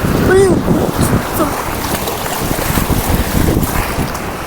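High-tide sea waves surge onto a fishing shore in a loud rush, with heavy wind buffeting the microphone and excited voices shouting nearby.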